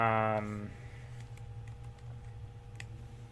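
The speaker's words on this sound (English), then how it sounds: "Typing this" Quiet clicking keystrokes on a computer keyboard while someone debugs code, scattered irregular taps under a low hum after a brief spoken word at the start.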